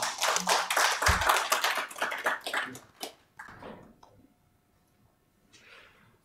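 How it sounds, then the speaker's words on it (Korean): Applause from a crowd at an academic conference session in Korea, dense clapping that tapers off over a few seconds and fades into near silence. "다시 한번 큰 박수로 격려해 감사의 뜻을 표해 주시기 바랍니다"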